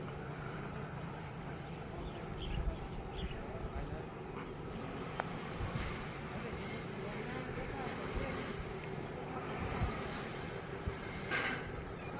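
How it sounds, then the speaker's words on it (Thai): A train rolls slowly into the passing siding at Ban Khu Bua station in Thailand, a low continuous rumble of wheels and engine with faint clanks, while someone talks quietly over it. "ตอนนี้ก็เคลื่อนขบวนเข้าในรางลีกนะครับ"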